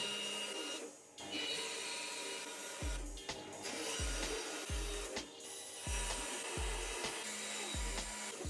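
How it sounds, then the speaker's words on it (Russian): A band saw whines steadily while cutting through plywood, with repeated low thumps as the piece is fed and shifted. "Я буду делать это на ленточной пиле, так удобней, но можно и лобзиком."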